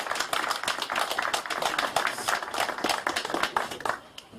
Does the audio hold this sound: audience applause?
yes